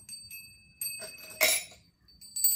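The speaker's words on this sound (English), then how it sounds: "A double bell. Ooh, that hurt my ears." A small brass bell rings several times, bright and piercing, with one loud sharp strike in the middle and lingering high ringing tones, close up.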